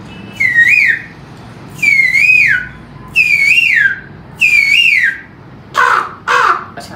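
A man mimics the call of an Asian koel with four rising-and-falling whistled notes in a steady rhythm, followed by two harsher, crow-like bursts, all close and loud with no speech.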